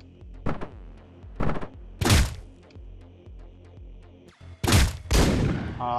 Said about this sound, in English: The nail gun is horribly inaccurate.